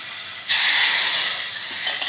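Hot tempering with curry leaves poured into sambar gives a sudden loud hiss of sizzling oil that surges up and holds steady before slowly easing off.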